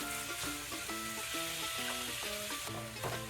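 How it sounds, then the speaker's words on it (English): Ground beef browning with onions in a hot pan for manicotti meat sauce, a continuous close sizzle with stirring scrapes, and a tonal hum running underneath throughout. "We just want to break up the meat and brown this with the onions."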